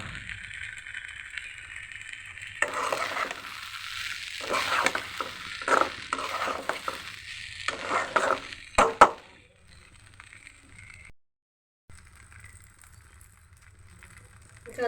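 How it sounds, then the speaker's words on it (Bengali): Zarda sweet rice is stirred in a pan with rough scraping and shuffling bursts for several seconds, then a sharp clack, followed by near silence with a faint background hum. "ভালো মতো জর্দাটা নেড়ে দিচ্ছি"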